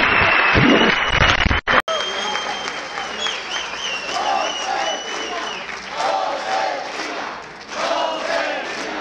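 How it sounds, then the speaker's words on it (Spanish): Audience applause at a Mexican PAN political event welcoming presidential candidate Josefina Vázquez Mota, a dense, loud sustained clapping with crowd noise and cheering filling the whole stretch after a brief cut near the start. "Recibamos con un fuerte aplauso a nuestra próxima presidenta de la República, Josefina Vázquez Mota."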